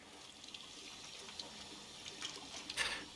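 A bathroom water tap in the video game Heavy Rain runs with a steady, soft hiss of flowing water that grows louder and more splashy toward the end, with no talking.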